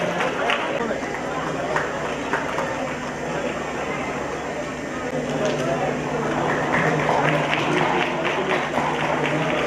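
Loud, sustained applause from a crowd at an Islamic quiz contest, a dense continuous wash of clapping lasting several seconds with no break.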